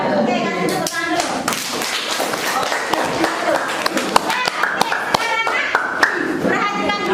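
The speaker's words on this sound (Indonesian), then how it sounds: "kasih tepuk tangan dulu" Classroom clapping after a student presentation, irregular bursts of hand claps and sharp taps with thumps, mixed with children's chatter and talk throughout, busy and close.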